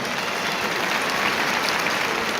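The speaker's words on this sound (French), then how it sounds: "vous pouvez applaudir bien fort notre huissier de justice aussi" Applause for a bailiff at a regional beauty pageant results ceremony, a dense, continuous wash of clapping from a large crowd, loud and unbroken.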